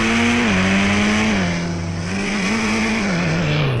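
In an Indian bike video game, a motorbike engine drones loudly and steadily, its pitch dipping and rising slightly as the throttle shifts. It runs without pause and no one talks over it.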